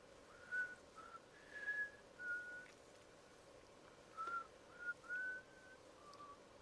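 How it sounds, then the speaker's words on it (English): Someone whistles a short tune in soft, separate phrases. The whistle is faint and sits over a steady background hiss, with gaps between the phrases. "Careful, you whistled that, I might get copyright claimed."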